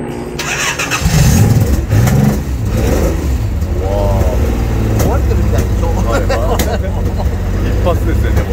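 A carbureted motorcycle fitted with Solex carburetors cranks and fires at once, then settles into an uneven, sputtering idle close by, with people talking over the engine.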